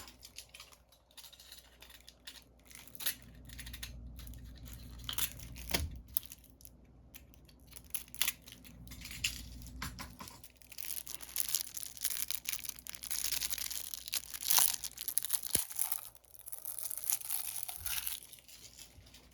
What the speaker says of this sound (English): So as I'm unboxing here, I just want to make sure.